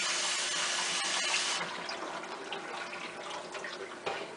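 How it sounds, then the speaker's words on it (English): Cold water pours from a kitchen tap over blanched greens, a bright hiss that dulls after a moment into a softer, splashier running stream. "we're going to cool them off with some cold tap water"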